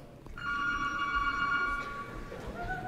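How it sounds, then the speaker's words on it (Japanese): A telephone rings in a single steady electronic trill lasting over a second, clear against a quiet room hum on a holiday morning. "病院から一本の電話。"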